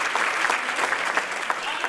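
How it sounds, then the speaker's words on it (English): An audience at the Onyx Magazine Women on the Move event applauds its sponsors, a steady dense wash of clapping from a crowd that holds even throughout. "Let's give them a round of applause"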